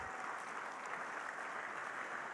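A conference audience at a financial services AI event claps for a speaker, an even, continuous patter of many hands heard from some distance, fairly soft and unbroken, with nobody talking.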